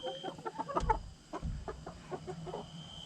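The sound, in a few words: baby chickens chattering while settling pecking order in coop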